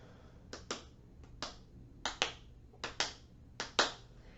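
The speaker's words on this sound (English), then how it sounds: "You can do it by clapping." Sharp hand claps or snaps mark out rhythm in pairs, four quick double claps spaced evenly, crisp and close in a quiet room.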